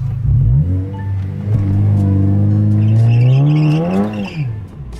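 A Honda Civic Si turbo engine revs up close to warm the clutch, its loud tone climbing steadily and sustained before falling away, with no talk over it.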